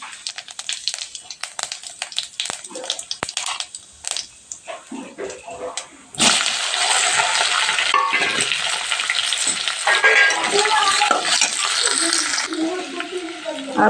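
Cumin seeds go into a hot pan for green chili aloo paratha: irregular clicks and rattles of handling give way to a sudden, loud, continuous sizzle that fills the rest of the stretch.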